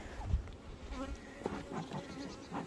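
Honeybees buzz around an open beehive during hive inspection, a soft, uneven hum with brief louder passes of individual bees near the listener.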